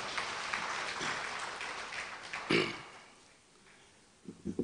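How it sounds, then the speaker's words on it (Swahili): An audience at a South Africa–Tanzania cultural event applauding, a dense patter of clapping that swells, briefly peaks, then thins out to a few scattered claps. "Tumpigie makofi mengi sana sana."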